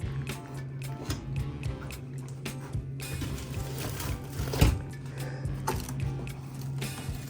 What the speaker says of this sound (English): Water drain off the sides.